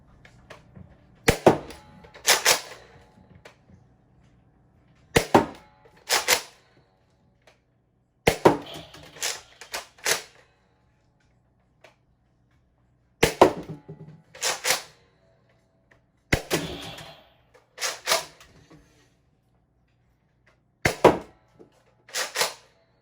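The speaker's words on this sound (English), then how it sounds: "We're gonna shoot this thing off" A Nerf Rival Helios XVIII-700 blaster fires at a testing range in separated bursts of sharp mechanical snaps, usually two or three close together, with quiet gaps between volleys and no talking.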